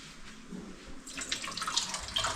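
Running tap water splashes over fresh cashews being washed in a home kitchen, starting soft and swelling into a steady, close gush with splashy texture.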